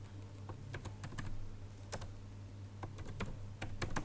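A computer keyboard typed on in short, uneven bursts of close, crisp key clicks over a low hum, no voices.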